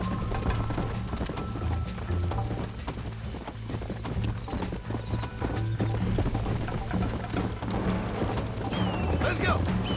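Steady clip-clop of horse hooves at a brisk pace in Red Dead Redemption, mixed with clicking mechanical noises and a busy game background throughout.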